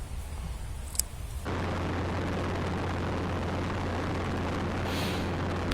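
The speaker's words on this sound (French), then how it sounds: "Le bruit rotor, c'est pas très agréable." Robinson R22 helicopter rotor and engine noise, a loud steady broadband roar with a constant low drone that starts abruptly after a quieter opening, heard up close while the aircraft prepares to hover in front of a hangar at Mont-Blanc.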